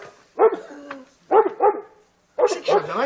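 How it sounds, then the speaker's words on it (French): A neighbour's dog barks in three separate bursts of two or three sharp yips each, fairly close and loud, with short pauses between them and no voices over the barking. "C'est le chien du voisin."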